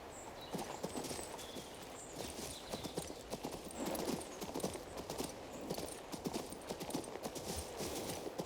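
Horse hooves clip-clopping in the King's Bounty II video game, a steady, quick trotting rhythm of light clops, fairly faint but continuous, with no talk over it.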